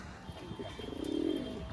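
Madras giribaz pigeons coo close by in a brief, low throaty swell that builds toward the end, over faint background noise.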